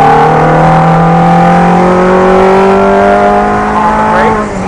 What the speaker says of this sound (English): Nice and easy rolling on power as we come down the straightaway